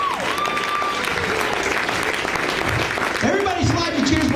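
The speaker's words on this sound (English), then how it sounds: "let's give them all a big round of applause" A big round of applause from an audience at a live stage show, loud and sustained, with a voice speaking over it and a few pitched vocal sounds cutting through near the end.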